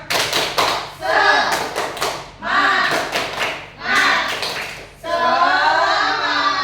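A class claps a rhythmic spirit-clap pattern, bursts of claps broken by short pauses, with children's voices chanting along between and over the clapping.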